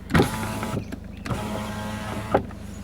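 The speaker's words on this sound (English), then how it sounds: "I'll just open my window" A 2010 Peugeot 3008 1.6 HDi's electric window motor whirs steadily for a few seconds as the window opens, with a soft click at the start and another as it stops, heard up close.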